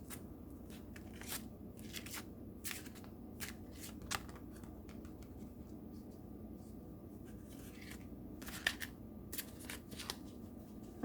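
Talisman oracle cards being shuffled by hand, soft papery riffles and flicks in scattered bursts, close but faint, with no talking.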